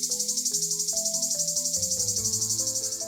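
Loud, steady insect buzzing of cicadas in Illinois, a dense high drone pulsing rhythmically throughout, with a faint tonal melody playing underneath.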